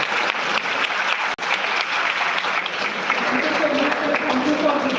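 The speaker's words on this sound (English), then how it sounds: "Clap for sir." Students in a live class clap for their teacher, a dense, steady round of applause filling the whole stretch, loud and close, with a brief dropout partway through and faint voices beneath.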